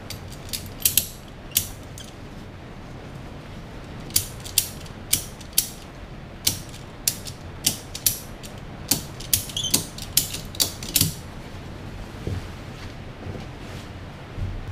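A ratchet strap is cranked tight against a CargoSmart 5000 lb covered anchor point, producing a long series of sharp, close mechanical clicks at an uneven pace over a low background hum, with no talking.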